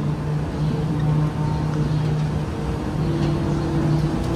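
A Peterbilt 359 truck pulling a hopper-bottom trailer creeps along slowly in low gear, its engine giving a steady, even drone with a low hum that runs on without a break.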